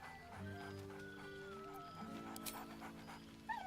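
The dog Scratch in Baldur's Gate 3 gives soft whines and panting breaths, close and fairly quiet, over a sustained game music drone.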